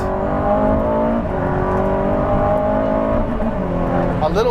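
Aston Martin Valhalla driven hard, its engine droning loud and steady with a rising pitch inside the cabin, while someone talks over it.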